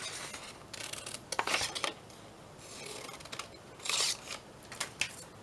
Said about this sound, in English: Let's cut this little one out.